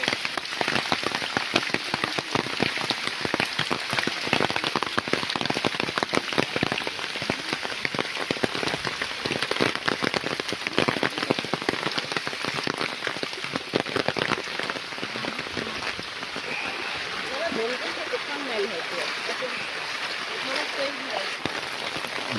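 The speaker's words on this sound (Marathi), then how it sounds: "पाऊस जोरात आहे त्यामुळे आम्ही परत आलो" Heavy rain pours down in a constant, loud roar of drops, easing slightly near the end where faint voices come through.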